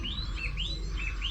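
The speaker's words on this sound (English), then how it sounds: "Listen to the birds" Birds sing in a garden, a few clear rising chirps and tweets repeating close by over low background rumble, with no talk.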